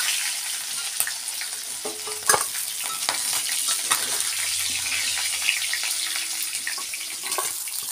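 Fish heads fry loudly in hot oil, with a dense, continuous crackling sizzle throughout and a sharp clatter of a utensil in the pan partway through as they are lifted out.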